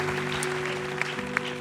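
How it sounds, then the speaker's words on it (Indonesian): Audience applause at a stage talent show, a short burst of steady clapping from a crowd with a few sharper claps standing out, under a faint hum. "tepuk tangan dong untuk Umi Alfi Sukaisi malam hari ini"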